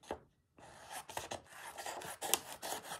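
Scissors snip and rasp through fabric, cutting out an embroidered beehive in close, quiet, uneven strokes.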